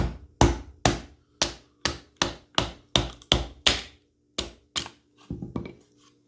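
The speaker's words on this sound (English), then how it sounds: "heard it go through that knot" A Brothers FO17 camp knife with a thick saber-ground stock chops repeatedly through a knotty piece of wood, about a dozen sharp, close, loud strikes in an uneven rhythm, ending in a few softer, scrappier hits.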